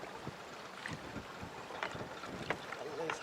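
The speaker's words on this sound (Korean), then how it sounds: "바람이 불고 이 파도가 쳐서 고기가 많이 안 잡히는" Wind and choppy waves buffet a small fishing boat out on the Sea of Galilee, close gusty rumble and irregular slaps of water against the hull, with scattered faint sounds over the top.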